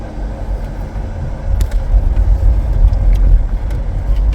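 A taxi car drives on a road in Poland, its low engine and tyre rumble steady and close inside the cabin, growing slightly louder partway through with no talking.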